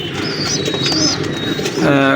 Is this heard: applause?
no